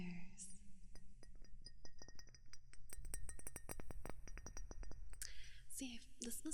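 Quick, irregular fingertip taps on a plasticky glass, dozens of dull light clicks in close rapid bursts, with soft whispering at the start and end.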